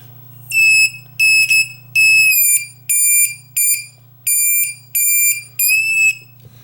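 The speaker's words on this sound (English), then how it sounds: "the buzzer will start to beep when I get over a certain voltage" Sharp electronic beeps from an over-voltage buzzer on an LM317 regulated power supply repeat in short bursts, eight in a row at an uneven rhythm, over a low steady hum.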